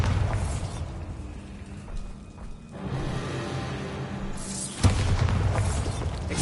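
A Bombarda explosion spell in Hogwarts Legacy, a deep rumbling blast followed by a second sharp boom and lingering low roar, loud and close.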